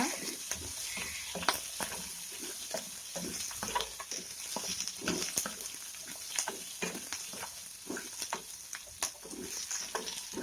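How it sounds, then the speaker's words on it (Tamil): Ginger and garlic sauté in a pan, a faint sizzle broken by repeated scraping stirs at an irregular pace, with no talking. "சேர்த்துட்டு ஒரு ரெண்டு நிமிஷத்துக்கு வதக்குங்க"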